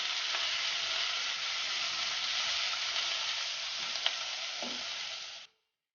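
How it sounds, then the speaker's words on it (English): Crushed garlic cloves sizzle steadily in a hot pan with a few soft scrapes as they are stirred, a constant close hiss that cuts off abruptly near the end. "Give that a gentle stir."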